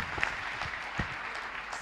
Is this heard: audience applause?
yes